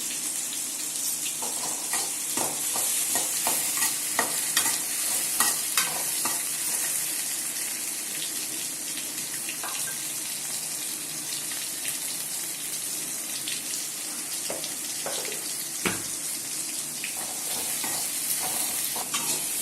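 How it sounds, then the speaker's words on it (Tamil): Ginger and garlic sautéing in a pan for a Tamil chicken kulambu, a long continuous hiss of frying with scattered clicks and scrapes from stirring, steady and moderately loud with no talk. "இஞ்சி பூண்டையும் அதில் போட்டு எல்லாத்தையும் சேர்த்து நல்லா வதக்கணும்."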